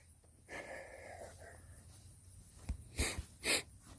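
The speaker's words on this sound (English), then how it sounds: "I got the sniffles" A few short, close nasal sniffs from a person with the sniffles in a crawl space, the last two sharper and louder, in an otherwise quiet space.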